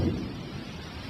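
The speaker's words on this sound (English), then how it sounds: "Thunderstorms may be brief here, but they often presage long rainy spells." Thunderstorm in leopard country in the wild, with a low rumble of thunder and a steady hiss of rain, fairly soft and continuous.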